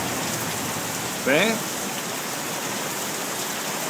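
Heavy rain falling in Las Vegas, a steady dense hiss of drops on surfaces throughout, with a brief spoken word near the middle.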